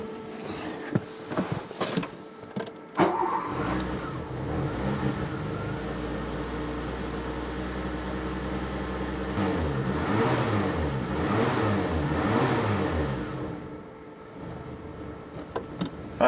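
A Renault 25 V6 Turbo engine with a smoking fault revs up and holds at higher speed, its pitch rising and wavering as throttle is held, then drops back toward idle.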